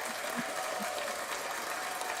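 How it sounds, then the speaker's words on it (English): Audience clapping at a spiritual talk event, a steady wash of many hands applauding at moderate, somewhat distant level with a faint tonal hum underneath. "Let's go ahead and clap it up."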